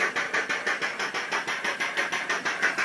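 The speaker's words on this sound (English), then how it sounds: "I know this thing's making a lot of noise, but it's pumping." A noisy pump drawing waste oil through a filter for a waste-oil burner, with a steady rhythmic pulsing chug repeating several times a second, close and loud.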